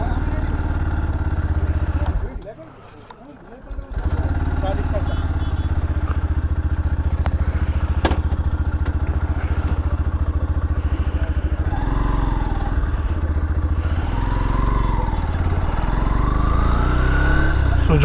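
Yamaha FZ motorcycle ridden on the road, a steady engine drone with passing traffic, briefly muffled near the start, and a voice talking over it in the later part.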